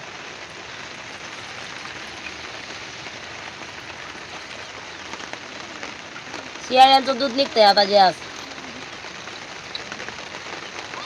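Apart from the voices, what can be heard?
rain falling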